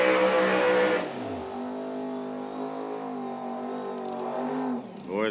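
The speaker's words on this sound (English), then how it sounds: "those Pro Charge cars are loud" Pro Charger drag racing cars roar loudly at a drag strip, a sustained heavy engine drone with strong harmonics lasting several seconds before tapering and a brief rev near the end.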